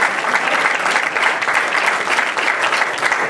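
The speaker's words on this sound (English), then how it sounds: "Our great Laura Curran, let's give her a round of applause." An audience at a public event gives Laura Curran a sustained round of applause, dense and even clapping that continues steadily throughout without any talk.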